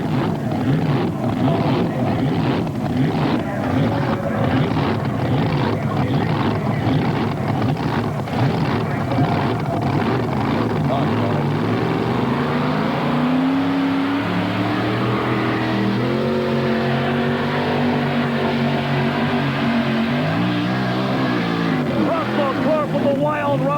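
A modified tractor in a 1993 mini modified tractor pull at Scribner, Nebraska roars loudly and shifts pitch through the run, heard under a commentator calling the action.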